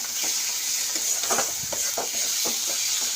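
Spiced tengra fish masala sautéing in a pan, with a steady sizzling hiss and repeated soft scraping strokes as the mixture is stirred. No one speaks.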